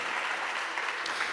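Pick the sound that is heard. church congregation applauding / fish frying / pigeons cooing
church congregation applauding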